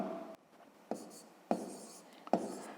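A pen scratches numbers onto paper in a quiet room, with four or five short strokes separated by brief pauses, close and soft.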